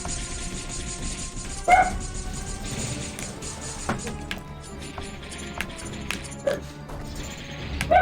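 Paige the dog barking in a room, with a few sharp yips at intervals over a steady bed of game music and background noise; no words are spoken.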